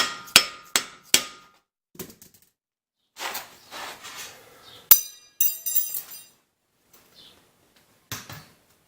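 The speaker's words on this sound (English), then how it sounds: "Give it a little tappy tap." A hammer taps a wheel hub into place on a Ford F-250 truck, with three sharp metallic strikes at the start, then scattered lighter clinks and knocks of metal parts being handled.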